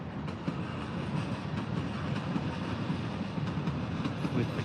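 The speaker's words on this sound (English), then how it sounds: "You can kind of see the train on the skyline there." A train runs along the Fukuoka skyline with a steady, distant rumbling roar that holds evenly throughout, with no voices.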